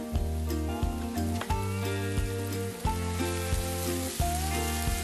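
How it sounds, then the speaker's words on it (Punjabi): Spiced tadka sizzles steadily in hot ghee for dhaba-style dal tadka, a dense continuous crackle with a few louder pops and occasional spoon clinks, close and fairly loud with no talking. "ਲਓ ਜੀ ਆਪਣਾ ਤੜਕਾ ਬਣ ਕੇ ਬਿਲਕੁਲ ਰੈਡੀ ਹੋ ਚੁੱਕਾ ਹੈ"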